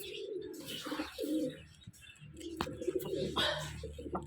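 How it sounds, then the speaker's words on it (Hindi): Several birds call close by during feeding time in a backyard coop, with cooing and brief chirps scattered across the clip alongside soft rustling. "तो रीने को दाना डाल चुके हैं, अब बारी है मुर्गों की।"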